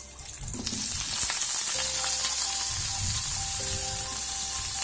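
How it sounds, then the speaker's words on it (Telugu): Chillies, onion and coconut roasting in a pan, a steady loud sizzle throughout with a few scraping stirs, close and alone. "సో ఇవన్నీ కొద్దిగా బాగా రోస్ట్ చేయాలి."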